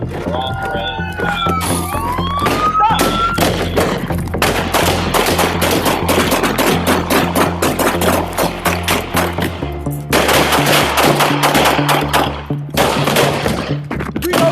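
Rapid bursts of gunfire crack through a police shootout, loud and close, with repeated shots and volleys running almost continuously over shouting voices and commotion.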